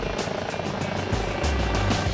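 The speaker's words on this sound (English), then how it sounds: "Chelsea Fire helicopter." A fire department medical helicopter sets down at a ball field landing zone, its steady rotor thump and engine roar loud and close throughout.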